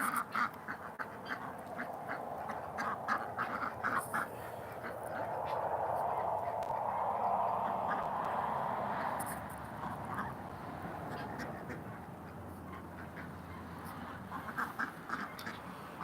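Ducks quack steadily in a busy flock while being fed in very cold weather, overlapping calls with a low background murmur, at moderate distance.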